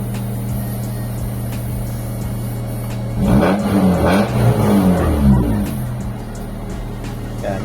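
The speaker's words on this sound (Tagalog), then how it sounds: "Yan, stable na ulit yung idle nya." Mitsubishi Lancer engine idling while warming up, a steady hum that swells into a brief rougher rise in the middle before settling back to an even idle.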